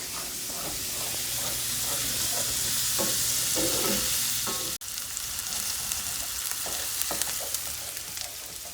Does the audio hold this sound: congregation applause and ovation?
no